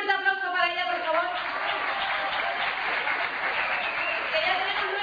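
Steady applause from a carnival audience fills the space after a singer's opening tones, a dense continuous clatter of clapping heard at moderate distance.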